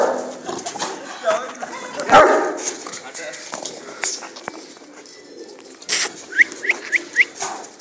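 Dogs kept at a camp of bully-type fighting dogs give several quick barks near the end, while people talk nearby and birds coo in the background.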